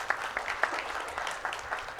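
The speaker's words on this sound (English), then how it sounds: "Please welcome Sir with a big round of applause." Soft, continuous clapping from an audience at a chartered accountants' event in India, fairly distant and muted, with a few sharper claps standing out.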